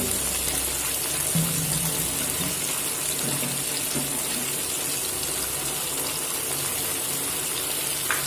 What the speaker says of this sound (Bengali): এই বাটিটা ধুয়ে অল্প একটু জল দিয়ে দেবো